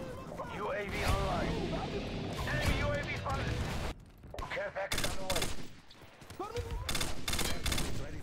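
Repeated gunfire in Modern Warfare 2 Remastered, with clusters of sharp shots and bursts broken by short pauses, mixed with game sounds and people talking over it.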